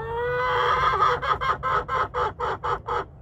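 Barred Rock chickens clucking up close, starting with a drawn-out call that breaks into a quick run of about nine evenly spaced, rhythmic clucks, clear and loud with no talk over them.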